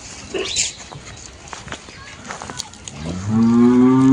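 A buffalo lets out a deep, loud drawn-out moo close by at the end, after some scattered shuffling and brief faint sounds.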